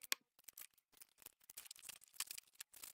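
Scissors cutting out paper cards, quiet close snips and paper rustles in uneven short bursts separated by silent gaps.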